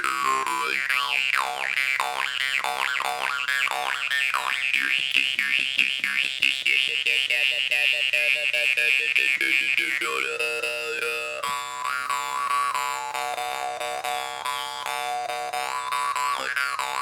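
A jaw harp played loudly and continuously, its twanging drone sweeping through shifting wah-like overtones with rapid rhythmic plucks, close and steady throughout.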